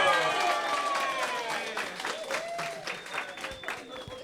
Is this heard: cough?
no